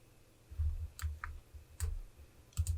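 A computer mouse clicking several times with short gaps between, small and soft at close range, with no voices over it.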